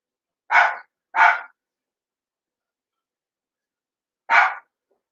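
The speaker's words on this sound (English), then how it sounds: "Gee, that's not my dog barking." Three sharp dog barks: two in quick succession, then a pause of a few seconds before a single final bark, fairly close with silence between.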